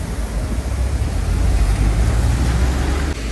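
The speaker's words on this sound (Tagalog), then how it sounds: "Biglang lumakas yung ulan." Heavy rain pours down in a steady, dense roar, loud and close, with no breaks or voices.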